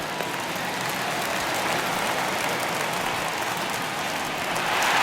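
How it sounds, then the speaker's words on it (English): A stadium crowd in MLB The Show 21 roars steadily after a record-breaking base hit in Boston Red Sox franchise play, a dense continuous wash of cheering and applause that swells slightly toward the end. "This crowd is going crazy, as they should, recognizing the historic magnitude of really an unbelievable accomplishment."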